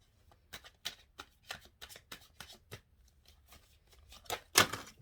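Tarot cards are shuffled close up in a quick series of soft riffling bursts with short pauses between them, ending in one louder, sharper flurry; the room is otherwise quiet.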